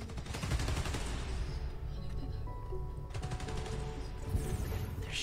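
Dense, continuous gunfire and fusillade in the video game Spider-Man Miles Morales, rattling bursts layered over game effects and background noise.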